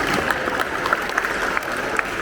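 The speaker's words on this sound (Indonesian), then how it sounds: "tepuk tangan untuk kita semua" High school students clapping together in a school hall at a police community safety talk, a steady crowded patter of many hands throughout.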